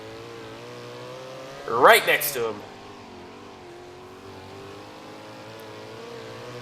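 A non-wing sprint car engine in the iRacing video game at Limaland drones steadily with a brief revving burst, while a voice speaks over it partway through.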